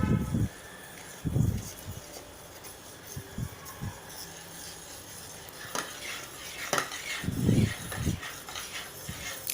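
Mango jam cooks in a pan under a faint bubbling hiss while a spoon stirs it, with intermittent scrapes and clinks against the metal and a few low thumps.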